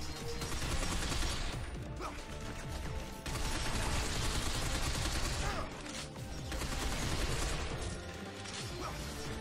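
Sustained gunfire in the shooter Binary Domain, a loud, continuous volley of automatic shots and crashes with short lulls between bursts.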